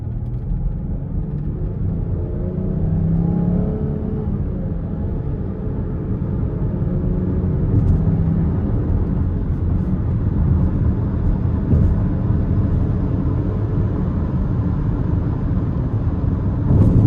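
A 2027 Chrysler Pacifica Limited minivan with a 3.6-litre V6 accelerates moderately on the road, heard from inside the cabin as a steady low engine drone with rising harmonics, accompanied by road and wind rumble.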